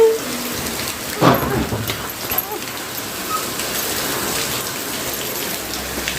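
Heavy rain pours steadily onto a balcony, a dense continuous hiss with a brief louder splash near the start.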